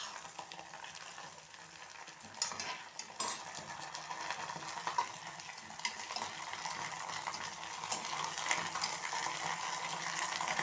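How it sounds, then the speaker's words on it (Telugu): A spoon scraping and stirring a curry mixture in a pan as it sizzles softly, with occasional sharper clinks against the metal over a steady low frying hiss. "ఇవి మంచి దగ్గరకు వచ్చేలా గోలించుకోవాలండి"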